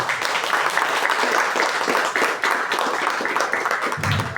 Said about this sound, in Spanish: un aplauso para irnos animando